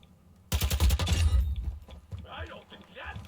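Gunfire from a Call of Duty MW2 DMZ match: a loud burst of rapid shots for about a second, then quieter scattered sounds, with a voice speaking over the later part.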